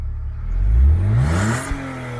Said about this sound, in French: fais-nous écouter le moteur un peu